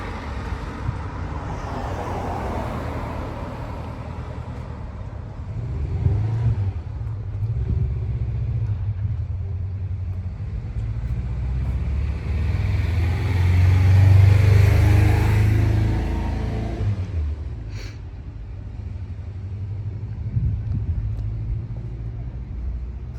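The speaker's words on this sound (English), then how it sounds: "I'll get the car started up in a second" A 1988 Lancia Delta HF Integrale engine turning over and idling, a steady low rumble that swells for a few seconds then settles, heard close and alone without talk.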